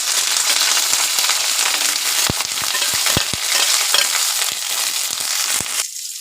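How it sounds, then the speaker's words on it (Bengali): Cauliflower frying in hot oil with salt and turmeric in a kadai, a loud continuous sizzle broken by sharp clicks and scrapes of stirring, with no voices. "তেল গরম করে নিয়েছি, এবার ফুলকপিটা ভেজে নেব।"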